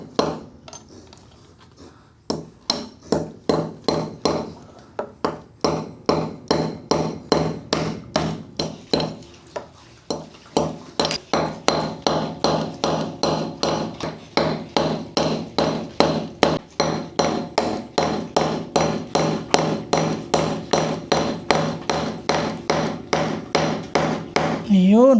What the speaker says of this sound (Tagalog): Papako na natin ngayon. Pako time.